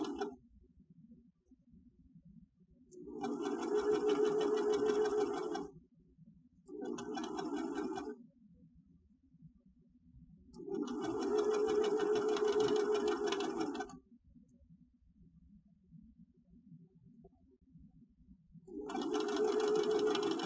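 A sewing machine runs a quarter-inch seam through quilting fabric for a trivet, whirring in steady bursts of a few seconds each with quiet pauses between them, close and moderately loud.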